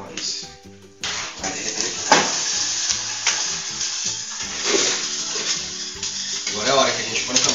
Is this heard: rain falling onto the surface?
no